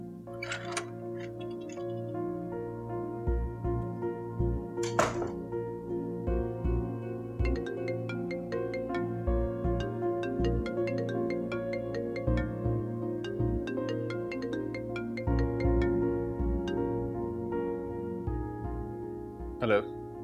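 A phone rings unanswered indoors, repeated ringtone bursts over a soft ticking background, with a few sharp clicks and no one picking up.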